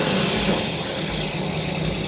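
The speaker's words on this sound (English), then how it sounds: "Garbage truck." A garbage truck drives past on a street in Key West, its broad engine rumble loud, steady and close throughout, with no talk over it.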